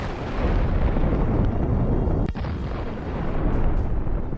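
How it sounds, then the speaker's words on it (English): An FPV kamikaze drone hits an armored vehicle hidden behind a forest belt, setting off a dense, roaring explosion that sustains a thick rumble with a brief dropout partway through. "The hit of the kamikaze drone caused an impressive explosion."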